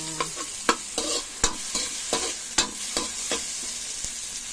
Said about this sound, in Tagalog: mix na natin guys yung ating tahong